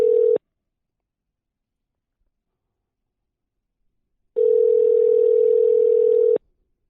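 A steady telephone ringing tone: one short burst, a long pause of silence, then a second, longer ring about two seconds long. Clear and close, no voices.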